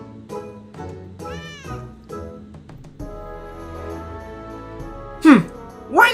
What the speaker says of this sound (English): Aw, look at those kittens